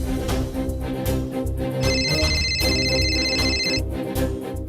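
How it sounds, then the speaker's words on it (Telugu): A phone rings in a room as a loud electronic ringtone with a bright repeating tone pattern over a musical background, with no talking. "నీ రూమ్లో ఉన్న ఫోన్ రింగ్ అయిందంటే మా పిన్ని గాని డాడీ గాని ఫోన్ చేసుంటారు"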